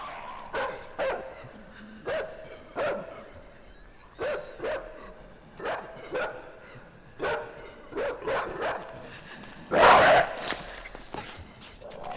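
A dog in the video game Inside barks again and again in short, evenly spaced bursts, close and fairly loud, ending in a louder, harsher outburst, with no talk over it.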